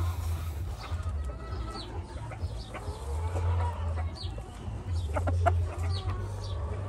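A Cowan cross gamecock rooster clucks in short bursts at a California game farm, nearby and moderately loud over a steady low hum, with occasional sharper calls and no talking.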